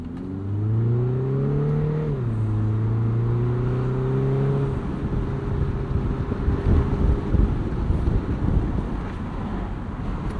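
Side windows on a 2025 Mini Cooper S Convertible rise by motor while driving, a steady whining drone that shifts pitch midway and stops near five seconds, then gives way to loud buffeting wind and road noise.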